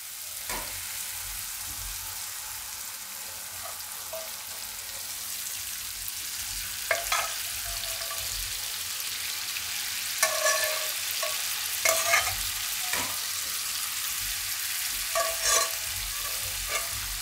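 Dal lentils are tipped into a hot frying pan and stirred, a steady sizzle broken by several scraping, clattering stirs, heard up close without talk.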